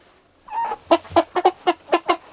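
A Liege cross rooster clucks in a quick series of about seven short, close, fairly loud calls after a brief opening note, with no talking.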